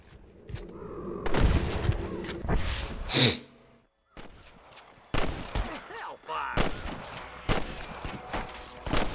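Bursts of rapid gunfire and booming shots crackle in the video game Red Dead Redemption, with a brief pause midway, then more volleys continue.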